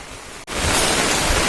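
Heavy monsoon rain keeps falling in Konkan, a steady loud wash of broadband noise with a brief dropout near the start, then constant downpour with no voices.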